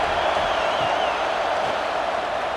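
A simulated stadium crowd in College Football 26 at Alabama gives off a steady, loud roar of massed voices with no pauses or breaks.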